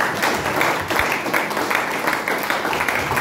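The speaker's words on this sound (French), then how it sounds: "Que quelqu'un acclame très fort les Seigneurs" A church congregation cheers and applauds loudly, with a dense, steady wash of clapping and voices over about three seconds.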